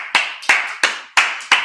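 Five sharp hand claps at a steady, even pace, close and loud, from a single person at a Sabbath service, each clap followed by a brief ringing decay.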